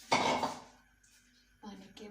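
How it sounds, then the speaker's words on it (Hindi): A metal lid set onto a cooking pot of chicken yakhni pulao, a sharp clattering clank at the start, then a short, softer rattle as it settles, close by in a kitchen. "इसको हम कवर कर देंगे"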